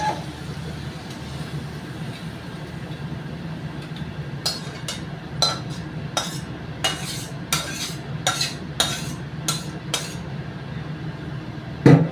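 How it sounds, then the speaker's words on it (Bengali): Curry spooned from one pot into another at home, a run of light metallic scrapes and taps of spoon against the pot, close and fairly quiet over a low steady background hum. "দেখো এই পাত্রটার মধ্যে তরকারিটা আমি ঢেলে নেব"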